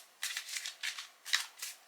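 A deck of playing cards is shuffled in several quick, crisp riffling bursts, close and clear against a quiet background.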